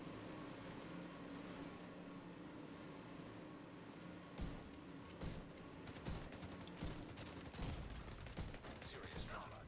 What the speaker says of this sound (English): Who's on the minigun?